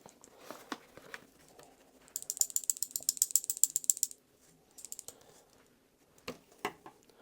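A rapid mechanical ratcheting whir from a hand-cranked sifter sifting flour, running steadily for about two seconds, with scattered clinks and soft kitchen knocks before and after.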